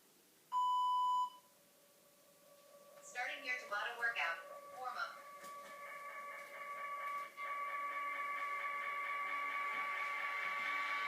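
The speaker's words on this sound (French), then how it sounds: "il y a des petits bips qui vont guider tout votre cours" Interval training timer app for a tabata workout sounding a single loud electronic beep near the start, followed by quieter mixed background sounds and a sustained tonal hum.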